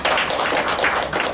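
Audience applause at a retail sales staff training session: a short, dense burst of clapping lasting just over a second.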